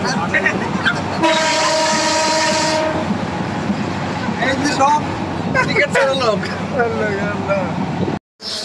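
A passenger train bound for Sylhet in Bangladesh runs loud and close with a steady rumble of wheels on rails, a long blaring horn blast early on and clattering carriage noise, while people talk throughout.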